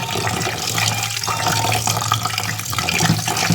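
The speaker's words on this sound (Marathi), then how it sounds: "आता तर दुसऱ्या पाण्याने धुवून घ्यायचं लोणी" Tap water runs steadily over freshly churned cow's-milk butter in a bowl, rinsing it clean before making ghee; a continuous close splashing wash with no talk.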